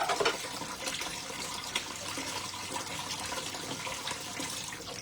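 Lemongrass rinsed under a running kitchen tap, a steady close splash of water into a sink filling the clip without pause, with no talk over it.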